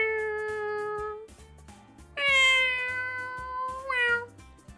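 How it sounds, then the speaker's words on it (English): A cat meows loudly several times in drawn-out, tonal calls, close and clear, with short pauses between cries and no talking. "Thank you for the big meow, Yamato."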